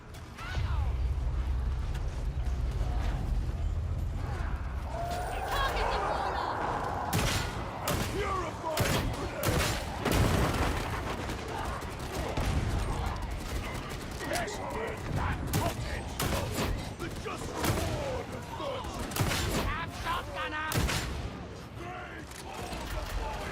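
Gunfire and mechanical clatter in Warhammer 40k Darktide, with bursts of shots, thuds and ratcheting weapon sounds scattered through a busy, loud battle, and voices speaking over parts of it.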